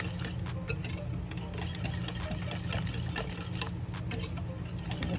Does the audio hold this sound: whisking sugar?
yes